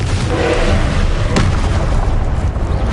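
Spell combat in Hogwarts Legacy with the Confringo blast, a loud, dense rumble with a sharp explosive burst near the middle, with no speech.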